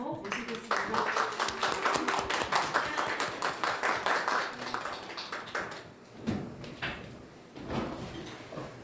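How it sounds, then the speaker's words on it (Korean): A crowd at a policy forum claps in a dense burst of applause that thins out into scattered claps, with a voice speaking near the end. "큰 박수 모시겠습니다."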